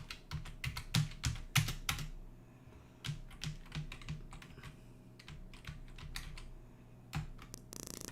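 Computer keyboard keys, mainly Z, X and backspace, pressed to play a 1985 arcade game: close, crisp clacks in quick clusters with short pauses between bursts and no talking.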